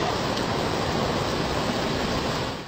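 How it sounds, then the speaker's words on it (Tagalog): Floodwater rushes from an overflowing river in Kabadbaran, Agusan del Norte, after heavy rain: a loud, steady, broadband roar of churning water with no pauses, close and unbroken throughout. "Umapaw ang ilog kaya rumagasa ang tubig."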